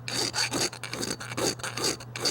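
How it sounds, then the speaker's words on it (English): A metal hand file rasps across a Dana 44 axle part in quick, steady back-and-forth strokes, about eight passes, close and fairly soft with no talking. "I'm gonna take my file in here, and I'm basically just gonna come in here like this and just take a little bit off."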